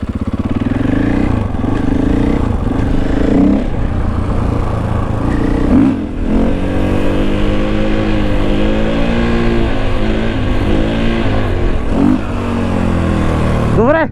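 A newly bought motorcycle's engine revs loudly and close by, its pitch climbing and falling in repeated surges, ending with a sharp rising rev.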